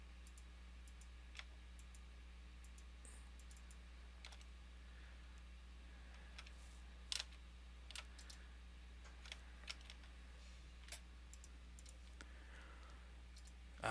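Faint, scattered computer keyboard taps and mouse clicks during work in InDesign, irregular and close, over a steady low electrical hum with no talking.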